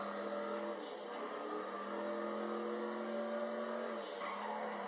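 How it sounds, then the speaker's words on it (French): Race car in GTA V pulling away from the start line, its engine note climbing steadily through a gear with a brief dip and shift partway, loud and continuous with no talk over it. "ça commence dans 3, 2, 1, go. Et c'est un départ plutôt correct pour le Stig"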